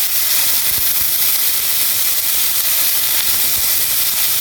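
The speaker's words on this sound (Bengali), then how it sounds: "সিমের বিচি খোসা ছাড়িয়ে আলু কেটে দিয়ে এখন রান্না করা হচ্ছে খড়ির চুলায়।" Bean seeds and potatoes cooking in a pot over a wood-fired stove, Jessore style, giving a steady close hiss of steam and gentle sizzle with faint crackles, no voices.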